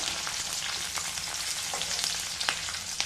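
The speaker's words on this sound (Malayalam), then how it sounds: "പച്ചമുളകും കൂട്ടിയിട്ട് ചെറുതായിട്ട് ചൂടാക്കണം" Green chilies with garlic and ginger frying in a pan for fish curry, an even crackling sizzle with occasional stirring scrapes, close and steady, no speech.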